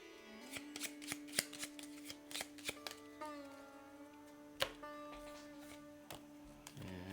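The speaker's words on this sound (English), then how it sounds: "Shuffle these up." Wingspan board game cards being shuffled by hand, a quick run of crisp riffling snaps followed by softer slides and taps, close and clear with a faint tonal hum behind.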